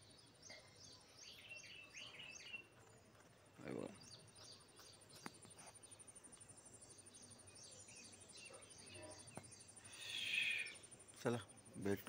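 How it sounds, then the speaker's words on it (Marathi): Birds call faintly in the early morning around a village home, their scattered high chirps rising over a steady bed of crickets and insects, with a few louder bursts near the end. "पक्ष्यांचा आवाज तुम्हाला येतोय की नाही माहीत नाही."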